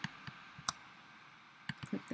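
Computer mouse clicks on a folder, sharp and close: a few single clicks spaced apart, then a quicker cluster of clicks near the end, set against quiet room hush.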